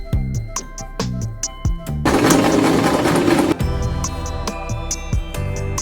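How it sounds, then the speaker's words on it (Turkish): A sewing machine stitches a seam on a fabric Japanese knot bag, with close rhythmic mechanical clicks and thumps breaking into a loud, steady whirring burst of fast stitching before slowing to intermittent clicks again. "bu sefer alttan üstteki dikişe kadar olan dikişi yapıyoruz."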